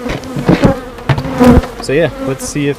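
Honeybees buzz around an open hive during a beekeeping inspection for hatched queen cells on a farm, a steady close insect drone running under a man's speech.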